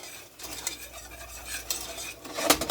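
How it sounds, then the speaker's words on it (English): Flour being stirred into a low carb roux in a pot, with a utensil scraping and clinking against the metal in an uneven rhythm, close up and fairly quiet. "I'm just going to add this in here, and then we're going to mix it up really good"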